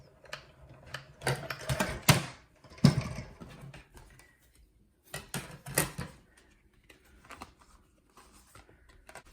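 Leather pressed through a die-cut machine with embossing folders while making earrings: close, bursty mechanical cranking and clunking in several rough passes, with quieter gaps between.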